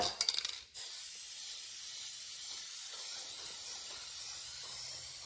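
A steady aerosol hiss of clear matte sealer being sprayed over clay-based paint on a salvaged wooden piece, preceded by a brief rattle of the can, continuous and close with no talking.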